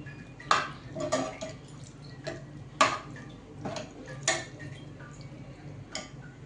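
Spoon stirring chole curry with fresh coriander in a pan, heard as a series of sharp metallic taps and scrapes spaced irregularly, moderately close with no talking.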